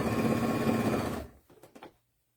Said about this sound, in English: On some machines, you might need to increase your stitch length here.